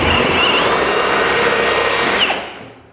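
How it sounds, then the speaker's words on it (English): A power drill fitted with a hole saw bit whines loudly and steadily while cutting a circle into a ceiling for a can light retrofit, then winds down and fades at the end. "I'm going to get the drill spinning, and then we're going to push it in, and this should cut my,"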